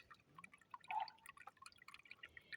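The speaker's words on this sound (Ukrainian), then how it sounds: "Там тече а там капає." Water dripping and running from an old bathtub tap, a steady patter of small drops over a quiet trickle, faint and close, with no voices.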